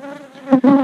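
Honeybees buzz loudly and close at a hive, a dense droning hum that swells in two louder bursts toward the end.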